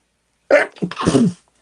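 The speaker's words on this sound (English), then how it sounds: "I have to sneeze." One loud, close sneeze bursts out alone in a quiet room, a sharp intake followed by a forceful explosive release lasting under a second.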